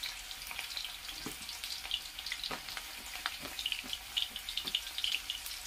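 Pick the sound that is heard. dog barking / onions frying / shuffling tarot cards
onions frying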